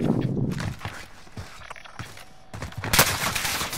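Gunfire in Call of Duty Modern Warfare: several irregular bursts of shots, some sharp and close, others more distant, with scattered clattering and movement sounds between them.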